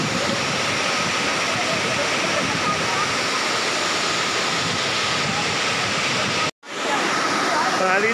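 Aliw Falls in Luisiana, Laguna pours with strong rushing water, a loud, continuous close roar broken only by one brief dropout before resuming.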